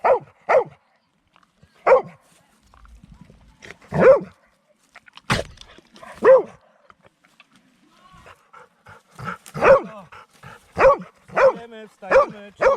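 A dog barks in short, loud bursts with panting and whimpers between them, close by and outdoors at a summer camp, with a few voices talking in the background.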